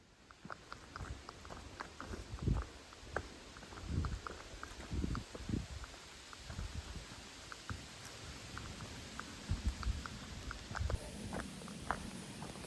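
A rainstorm patters on the trail near a hammock camp: irregular soft taps and drips, fairly faint and close, with scattered heavier drops and no talking.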